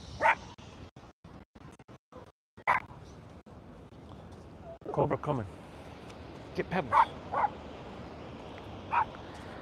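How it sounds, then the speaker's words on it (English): A dog barks and yips in short bursts outdoors by the San Diego oceanfront, several sharp barks scattered over about ten seconds, with people talking in between. "That doggy barking at me."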